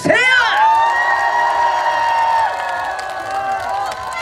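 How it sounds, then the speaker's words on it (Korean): Audience at an outdoor festival concert in Yeongam cheering and applauding, a loud sustained wash of crowd shouts, whoops and clapping with a sharp rise at the start. "여러분 박수와 함성 보내주세요!"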